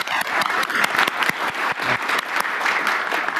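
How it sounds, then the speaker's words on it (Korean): Attendees at a Korean cabinet meeting give a round of thankful applause, with crisp individual claps clearly audible throughout the steady, fairly close clapping. "우리 참여해 주신 분들한테 감사의 박수를 한번"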